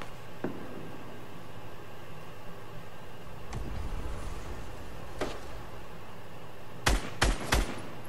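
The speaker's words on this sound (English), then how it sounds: "Gunfire." Sparse gunshots in the video game Fortnite crack over a low rumble, with a tight burst of three loud shots near the end.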